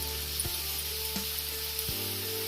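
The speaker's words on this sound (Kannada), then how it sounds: "ಈಗ ಎಣ್ಣೆ ಕಾದಿದೆ ನೋಡಿ, ಒಂದೊಂದೇ ಹಾಕಿ ಮೀಡಿಯಮ್ ಉರಿಲಿ" Karjikai pastries made with maida dough deep frying in hot oil over a medium flame, a steady close sizzle and bubbling that continues without a break, with faint stirring ticks and no voices.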